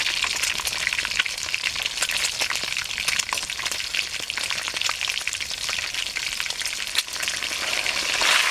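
Spices sizzling and frying in a pan for a North Bengal potato dal, a dense continuous crackle with scattered sharper pops and occasional stirring, close and steady, with no one speaking.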